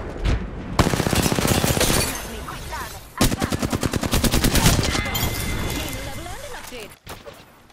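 Rapid automatic gunfire in the Apex Legends shooter, with loud close bursts of shots, a fast regular volley in the middle, and a player voice talking briefly over the action.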